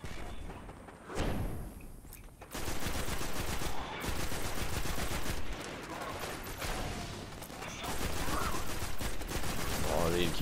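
Gunfire in the Destiny video game, loud rapid bursts and volleys that run almost continuously with thumps and brief gaps, close and dense.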